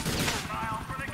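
Dense gunfire in GTA IV during an attack on a cocaine factory, with rapid overlapping shots in a loud, continuous burst.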